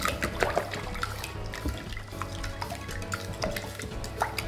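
Cheddar and red onion tart filling being mixed in a bowl, with wet, sloshing stirring sounds and light clinks of utensil on the bowl, continuous and close with no talking.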